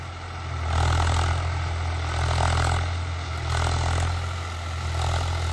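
Swaraj 744 XT tractor, a new model with HLM gearbox, idling with a steady deep diesel rumble close by, its revs swelling and easing in slow waves.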